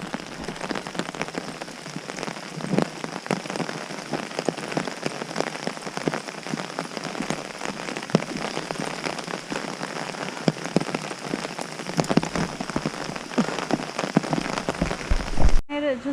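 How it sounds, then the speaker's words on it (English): Heavy rain pattering steadily on a hiker's rain suit and umbrella on the Appalachian Trail between Georgia and Maine, a dense close drumming with sharper drops throughout and a brief knock near the end. "Let's go get out of this rain."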